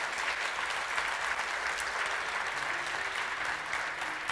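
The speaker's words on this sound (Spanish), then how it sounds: "Denle un aplauso a Jesús, por favor, que sea fuerte." A church congregation claps loudly and steadily together, a dense, continuous wall of applause with no pauses.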